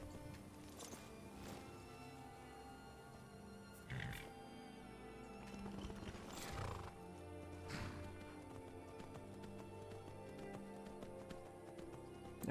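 A horse in the Skyrim video game, with repeated hoof clip-clops and a few sharper thuds over a steady layer of game music and ambience.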